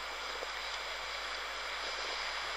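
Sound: sea waves at Pentewan beach

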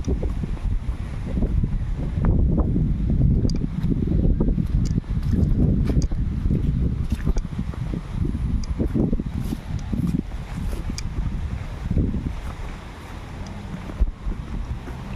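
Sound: strong wind

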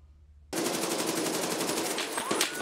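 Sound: machine gun fire in the video game Escape From Tarkov

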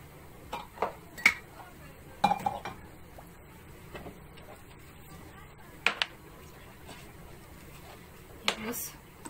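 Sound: washing dishes, pots and cutlery

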